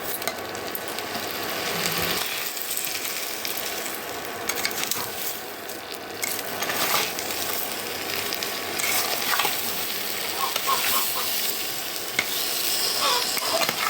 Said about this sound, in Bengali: নাড়তে নাড়তে চিনিটা অনেকটা জল উঠে যাবে, আমটা নরম ভেজে যাবে একদম